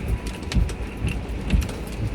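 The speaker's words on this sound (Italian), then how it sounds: "ha ripreso un po' a piovere forte con un po' di vento" Heavy rain falling with gusts of wind just after a hailstorm, a dense steady wash of drops with low rumbling thuds, heard from under shelter beside an open square.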